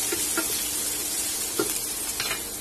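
Sliced big onion frying in a pan with roasted dals, a close, steady sizzle broken by a few soft scrapes and clinks of stirring.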